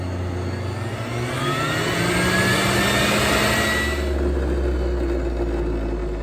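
A Breville Juice Fountain Cold juicer switched to its high speed: the motor whirs up with a rising pitch, then settles into a loud, steady whine, close by with no talking.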